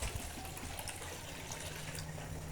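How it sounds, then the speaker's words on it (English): Water pours into a cooking pot while seblak is being prepared, giving a soft, continuous gushing splash that stays quiet and steady for a couple of seconds. "Then I want to add another water."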